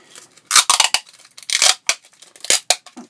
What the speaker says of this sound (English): I would grab my packing tape, tape it across.